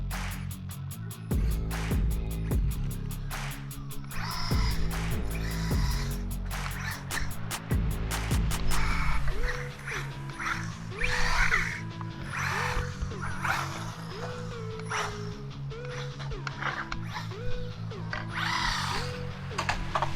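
An HBX Haiboxing 903a brushless 4WD 1:12 scale RC truck accelerating, with its motor giving short rising electric whines in bursts over a busy clatter of wheels and mechanical rattling, close and moderately loud.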